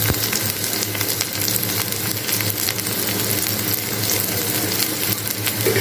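Onion and chili fry in a pan with a loud, dense, continuous sizzle that stays even throughout, with no talking over it.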